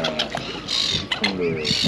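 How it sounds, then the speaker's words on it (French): Seagulls calling near the coast around Copenhagen and Dragør, a few loud close squawking cries in quick bursts, with background chatter mixed in. "Il y a plein d'oiseaux, il y a plein de mouettes."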